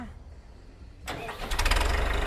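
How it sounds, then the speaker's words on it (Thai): A New Holland 5610S 80-horsepower tractor engine cranks and catches about a second in, then settles into a loud, steady rumble that builds slightly as it runs. "มาฟังเสียงกันดีกว่าว่า เครื่องใหม่เน็บอย่างนี้ เขามีดียังไง"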